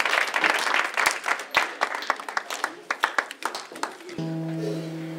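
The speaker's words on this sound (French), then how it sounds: "Let's clap our hands for the Lord." Church congregation clapping for the Lord during a bilingual worship service, a dense, uneven burst of many hands close by that stops abruptly as a sustained musical tone takes over.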